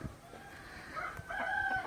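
Brahma chickens clucking and cackling among farmyard noise, a rooster-like call rising in the middle, fairly distant with a steady background hiss.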